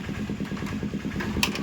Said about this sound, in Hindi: अब चेक करके किक लगा के देखेंगे